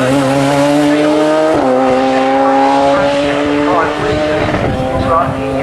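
Radical and Force sportscars racing up the Gurston Down hillclimb, engines howling loud and close with steady high-revving tones that shift pitch at gear changes, a brief tyre squeal amid the constant roar.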